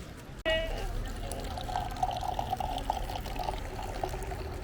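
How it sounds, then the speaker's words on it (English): Cider pours from a bottle into a glass at a sidreria in northern Spain, a steady splashing stream running for several seconds, fairly close, over a murmur of background voices. "we've watched them pour in cider from a bottle from the house"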